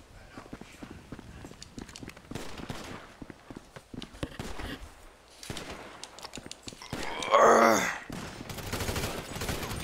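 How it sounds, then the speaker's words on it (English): Shotgun fire in Grand Theft Auto V, played on a FiveM server: a loud burst of blasts near the end stands out over steady game noise, footsteps and busy in-game movement. "it's a human that shot at me with a shotgun"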